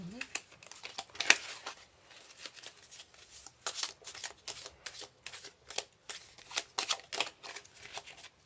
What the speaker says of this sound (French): Une dernière carte de l'oracle de la fée Morgane